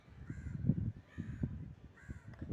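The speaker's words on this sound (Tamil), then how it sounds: "காக்கா வேற கத்துது" A crow caws outdoors in three repeated harsh calls spaced about a second apart, moderately near, over a low background rumble.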